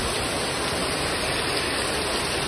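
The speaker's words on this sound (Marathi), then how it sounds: "खूपच पाऊस पडतो आमच्याकडे बघू शकता" Heavy rain falling steadily, a dense and continuous hiss with no breaks, loud and even from start to finish with no voices present.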